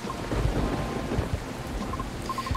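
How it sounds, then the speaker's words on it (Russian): Thunderstorm ambience from the Coffee Talk video game: steady rain with low rumbling thunder rolling through, plus faint chiming tones near the end, with no voices. "Кажется, гроза скоро стихнет."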